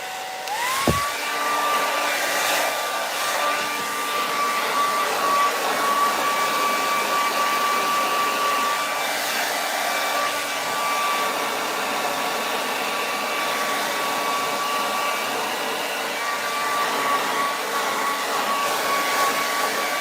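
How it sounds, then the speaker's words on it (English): A blow dryer runs continuously at close range while drying hair during a wash-day routine, giving a steady whirring hum with a sustained whine that starts right away and holds for the whole stretch. No talking. "I want my blow dryer."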